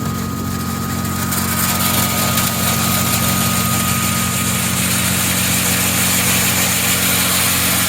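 An Eliminator 224 seed and grain cleaner runs steadily while cleaning corn, giving a loud, continuous motor drone with a mechanical hum and rattling vibration that stays constant throughout, with no speech.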